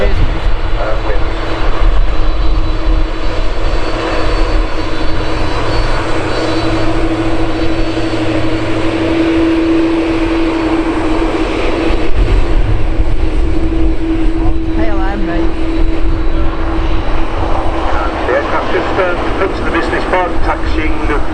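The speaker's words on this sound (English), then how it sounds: "Air Lingus aircraft is an A330, and this aircraft's off to Orlando" An Aer Lingus Airbus A330 taxis at Manchester Airport, a steady loud jet engine roar with a sustained hum filling the scene while someone talks over it throughout.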